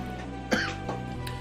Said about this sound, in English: There goes the coughing fit.